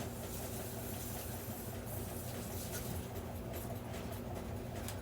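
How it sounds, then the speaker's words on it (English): A front-loading washing machine runs noisily in the background of a home, a steady low rumble and mechanical hum that stays constant and fairly faint throughout. "wash machine having a conniption fit back there."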